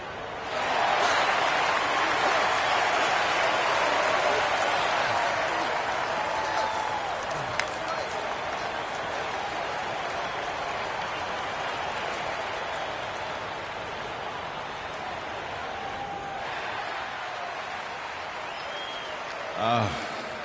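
Sustained crowd applause and cheering from an arena audience in the NBA 2K25 basketball video game, a steady broadband roar that holds for about twenty seconds with no break, loud and continuous.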